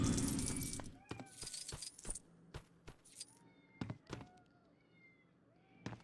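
Game-world sounds from LEGO Harry Potter, with scattered clunks, jingles and impacts, and a cat meowing a few times in the mix at moderate loudness.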